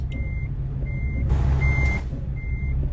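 Reversing beeps from a truck in American Truck Simulator on Mexican mountain roads, four evenly spaced steady tones over a low engine drone.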